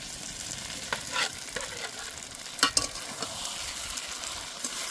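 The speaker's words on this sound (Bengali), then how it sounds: "মাছটা দিয়ে আবার একটু কষে নেব।" Shrimp frying with spices and pointed gourd in a pan, a steady close sizzle broken by a few sharp spatula scrapes and clinks as the mixture is stirred.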